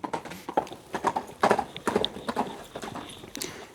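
Hooves of a large Kyrgyz mare, offered for sale for herd and ulak use, clip-clop in a steady walking rhythm close by on hard ground, with no one talking.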